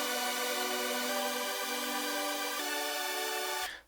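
Layered Serum 2 synth chord progressions, lower and higher voicings stacked, for a Defqon.1-style anthem melody ring out as a loud, bright sustained chord that shifts to a new chord midway, then cuts off abruptly.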